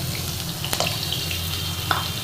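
Garlic-ginger paste frying in hot oil with cumin seeds in a kadhai, giving a steady close sizzle with a few faint clinks.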